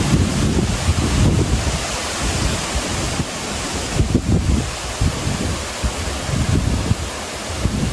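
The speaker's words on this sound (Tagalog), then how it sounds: "Napakalakas po ng hangin dito sa amin." Strong wind in an outdoor eggplant garden buffets the microphone in gusty surges, roaring and rumbling with water-like surf noise underneath; no one speaks.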